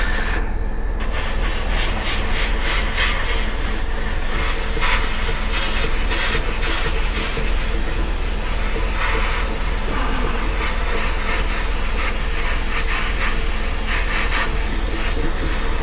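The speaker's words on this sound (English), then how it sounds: "I am always constantly moving my airbrush. I'm not keeping it in one spot." A steady, loud airbrush hiss sprays paint onto a Star Trek Enterprise model body without a break for the whole stretch, with faint fluctuations and no voices.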